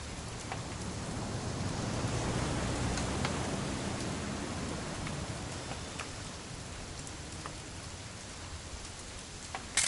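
Steady rain falls in the video game What Remains of Edith Finch, a dense, even hiss of drops on surfaces that lasts throughout with no voices.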